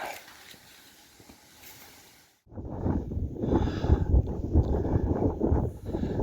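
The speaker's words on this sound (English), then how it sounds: "Bit of wind." Wind gusts buffet the microphone, a low rumbling roar that starts faint and then grows loud and blustery for the rest of the clip.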